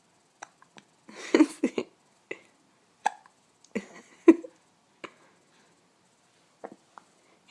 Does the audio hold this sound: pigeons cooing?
no